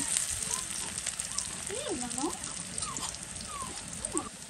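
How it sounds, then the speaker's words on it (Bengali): Onions frying in a pan with garam masala give off a steady, moderately loud sizzle that runs unbroken throughout, with a few faint higher tones drifting over it. "এই যে গরম মশলা দিয়ে দিলাম আর পেঁয়াজটা একটু ভালো করে ভাজা ভাজা করে নেব"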